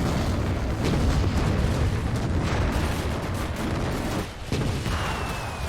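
A Panzer IV tank is destroyed in the WWII game Gates of Hell during the 1941 German invasion of the Soviet Union, producing a loud, sustained rumbling explosion that dips briefly near the end before a further rumble.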